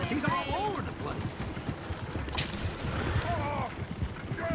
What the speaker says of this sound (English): Oh, shit, the horses!